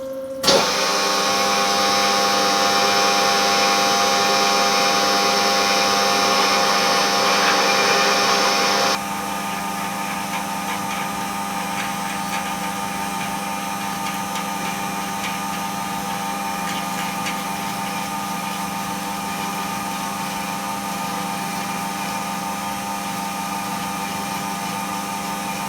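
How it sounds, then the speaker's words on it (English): A power drill whines steadily at high speed, then drops to a lower, rougher pitch and keeps running, loud and close, with no voices. "We do a bit of drilling."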